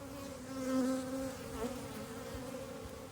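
Honey bees swarming over a hive frame during a queen check, a steady close buzzing drone with wavering pitch as individual bees pass near.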